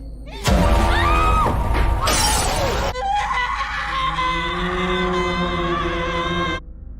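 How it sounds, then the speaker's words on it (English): Glass table shattering in a horror movie as a woman falls through it, a sudden loud crash with a scream, followed by a long sustained tonal drone until it cuts off. "Rose trips and falls through a glass table after another glimpse of Laura terrifies her"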